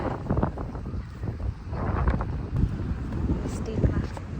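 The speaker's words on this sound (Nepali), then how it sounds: "हावा चलिरहेछ" Wind blows outdoors in Florida, a steady broadband rush with gusts that buffet a handheld microphone, heard close and loud under someone talking throughout.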